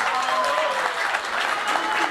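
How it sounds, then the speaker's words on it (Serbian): Crowd applauding Serbian president Aleksandar Vučić at a rally, a dense, steady wash of clapping heard up close and loud throughout, with faint voices mixed into the noise. "jedan velika aplauz za Aleksandra Vučića"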